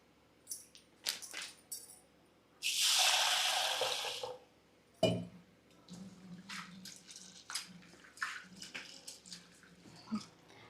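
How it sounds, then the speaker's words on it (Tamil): Water poured into a bowl in a brief splashing burst, followed by scattered swishing, clinks and small splashes as urad dal grains are stirred and rinsed. "இப்போ இது தண்ணி ஊற்றி நல்லா ரெண்டு தடவை வாஷ் பண்ணி எடுத்துக்கலாம்"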